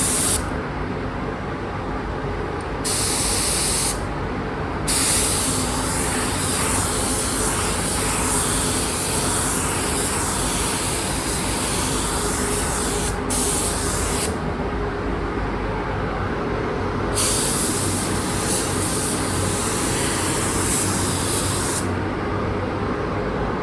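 Spray gun laying clear coat on a Honda CBR900RR Fireblade SC28 motorcycle fairing, a loud steady hiss of atomized spray that runs nearly nonstop and drops off briefly between passes, with no talk.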